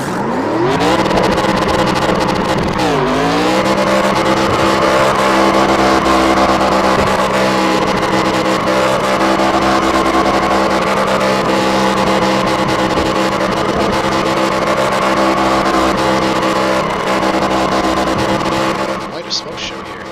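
An ARCA race car engine roars in the iRacing video game at Texas, a loud, steady, high-revving drone that climbs in pitch early on and holds at full throttle for about twenty seconds, with a commentator talking over it.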